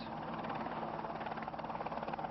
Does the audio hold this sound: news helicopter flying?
yes